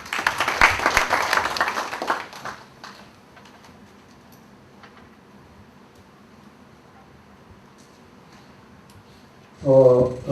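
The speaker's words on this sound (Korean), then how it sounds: "박수 한번 해주시기 바랍니다." Delegates applauding at a union meeting, a burst of clapping for about two seconds that fades to a quiet room, then a brief loud burst of sound near the end.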